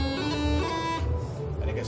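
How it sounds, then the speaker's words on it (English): A bagpipe plays a note preceded by a double grace note, two rapid flicks before the melody note, with the reedy chanter ringing over a constant drone at close range. "Then I can double them by adding a second grace note."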